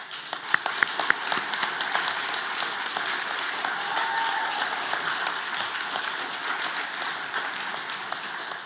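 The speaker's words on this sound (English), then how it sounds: "please stand up so we can give you a round of applause" Audience at a trucking company's awards ceremony applauds its drivers, a steady, even round of clapping from many hands that carries on for the full stretch with scattered sharper claps near the start.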